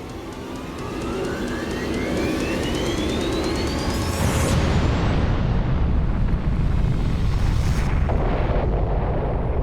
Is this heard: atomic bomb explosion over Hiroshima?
yes